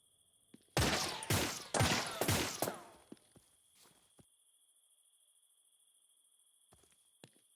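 A burst of rapid gunfire in the video game 3 Minutes to Midnight: several loud, close volleys back to back, then scattered single shots tapering into quiet, with a steady high electronic whine underneath.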